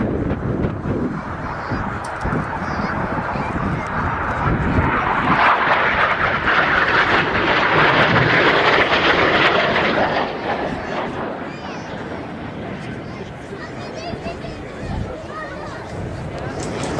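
Red Arrows aerobatic jets making a pass overhead at an air display: a loud, broad roar that swells to a peak midway and then fades slowly.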